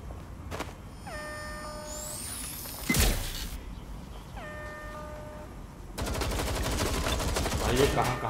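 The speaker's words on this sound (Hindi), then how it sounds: "ये कहां कहां से गोलियां आ रही समझ में नहीं आ रहा।" Gunfire in the video game Watch Dogs: Legion, with a sharp burst near the middle and dense, sustained rattling shots in the last few seconds over busy game sound effects.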